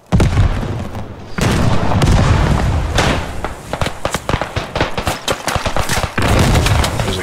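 Trench gun firing in Beyond The Wire on the Chateau-Thierry map, loud blasts and rapid cracking shots piling up amid battlefield noise and distant explosions, close and sustained throughout.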